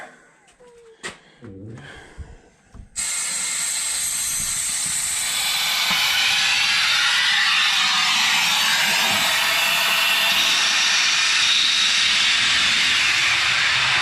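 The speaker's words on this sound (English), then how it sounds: "first I'm going to drain all the air out of it." A few brief knocks, then a loud, steady rush of compressed air hissing out of a drain valve, continuous and close, growing slightly stronger.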